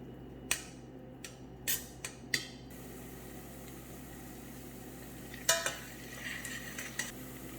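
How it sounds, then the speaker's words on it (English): Onion sautéing in olive oil in a pan over a medium flame, with a utensil clinking and scraping against the pan in a few sharp bursts above a faint, steady background. "Add the olive oil into the pan and saute the onion for about 5 to 7 minutes on a"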